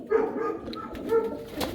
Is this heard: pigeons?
yes